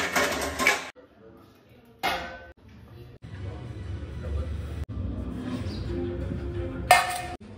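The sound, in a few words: plates and dishes being handled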